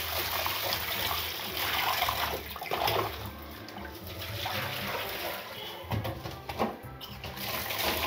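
Tap water runs and splashes steadily as fish is rinsed in a home kitchen, with shifting gurgles and bursts of pouring and no talk.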